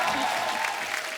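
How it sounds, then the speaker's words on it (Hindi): A studio audience on a comedy talk show breaks into loud, dense applause welcoming members of the Indian women's cricket team, a brief, continuous burst of clapping with faint crowd noise. "जोरदार तालियां"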